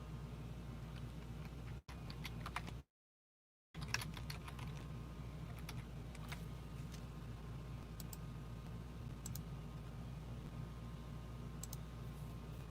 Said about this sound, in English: I was typing furiously.